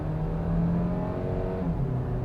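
A 2023 Kia Niro Hybrid's gas engine pulls through a launch, a steady close hum that rises slightly in pitch as the car accelerates, with no talk over it.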